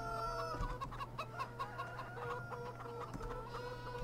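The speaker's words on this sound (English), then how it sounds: "Where are the chickens?" Chickens in Farming Simulator 17 cluck steadily in a faint, continuous flock chorus, short repeated calls layered over a low steady hum, with no one talking.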